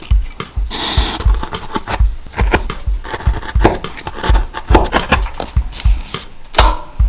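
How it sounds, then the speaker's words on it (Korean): A knife used for cutting vegetable-tanned leather is sharpened with repeated rhythmic scraping strokes, close and clear, with no talking. "칼을 갈아줍니다"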